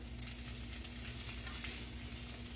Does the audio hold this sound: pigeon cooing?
no